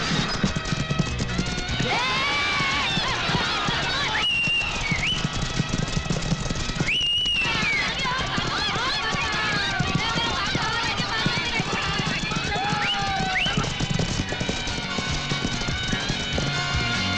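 Racehorses gallop in a jackpot race, their hoofbeats drumming steadily throughout under nearly constant talking, with sharp whistles and bursts of cheering.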